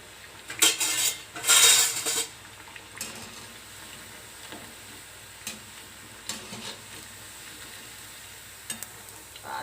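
Sabudana vadas fry in a pan over a medium gas flame, a soft steady sizzle joined by loud metallic clatters of a utensil against the pan near the start and a few lighter scrapes later.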